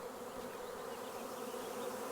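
A huge honey bee swarm fills the air with a dense, steady buzzing hum, close and continuous, with no voices over it.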